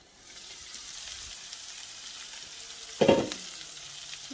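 Pork browning in a pan, a soft, low sizzle throughout with one brief louder scrape or stir near the end.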